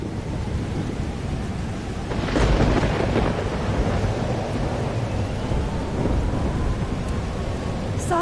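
A thunderstorm rolls through in the video game Life is Strange Double Exposure. Steady rain hisses throughout, and a deep rumble of thunder swells midway and lingers.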